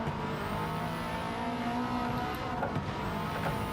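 A car engine in a racing video game revs steadily as the throttle is feathered on the snowy Lake Louise track in the Japanese 4WD Challenge, a continuous mid-loud drone with slight shifts in pitch.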